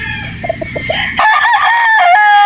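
A Boston Roundhead gamefowl rooster with a straight comb clucks several times in short bursts, then lets out one loud, close, drawn-out crow.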